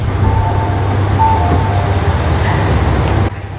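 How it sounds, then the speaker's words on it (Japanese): Limited express train Ashizuri 4 pulls into platform 2 at Kochi Station, a steady low rumble of wheels and engine at close range with faint squeals, ending abruptly. "特急足摺4号も2番乗り場に入線します"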